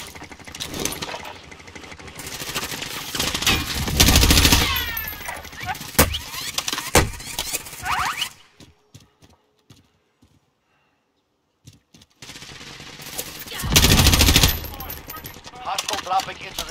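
Call of Duty Warzone gunfire, with dense bursts of automatic fire, single shots and heavy blasts that drop to near silence midway before another loud volley starts, all close and forceful.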